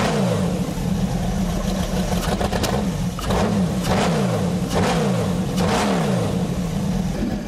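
A motorcycle engine revs up and down repeatedly in rhythmic surges, steady and fairly close, with no talking.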